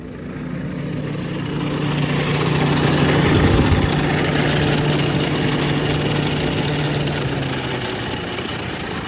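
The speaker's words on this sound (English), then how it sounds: "Sounds rough as a bag of nails." A rough, uneven farm vehicle engine idles steadily and loudly throughout, with a low droning hum and rattly mechanical texture.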